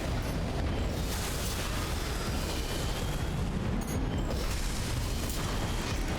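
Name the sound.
heavy cannons firing in the video game Armored Core VI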